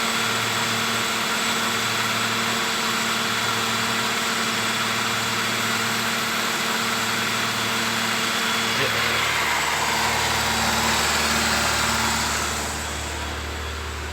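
Engine of a 2010 Nissan Livina held steady at 2000 RPM during a tuning-fluid treatment: a constant, close mechanical hum with a faint steady whine, easing off toward the end.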